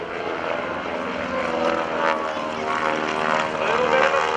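Aerobatic airplane engine flying inverted during an airshow roll at NAS Oceana, a steady propeller drone that wavers and stutters briefly before picking up again, moderately loud and sustained throughout, with no talk.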